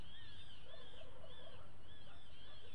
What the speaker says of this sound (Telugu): ఇంకో సాయంత్రం చూసారా ఈ పిట్టల అరుపులు ఎలా ఉంటాయో